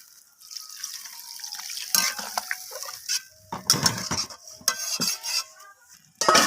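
Water poured into a pan of braised rohu fish curry with onion stalks, splashing in several uneven bursts with clinks of a utensil against the pan, close and moderately loud, no talking.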